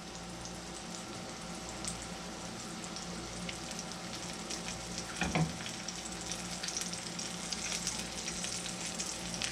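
Cubed pork cutlets fry in oil in a cast iron skillet, giving a steady, dense sizzle that runs throughout with a brief louder crackle midway, near and unbroken by talk.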